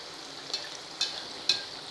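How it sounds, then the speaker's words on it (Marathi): Sweet gulgule bhaji batter frying in hot oil over a medium flame, a soft steady hiss broken by three brief crackling pops at even intervals, fairly quiet and close. "छान असे तळून घ्यायचे"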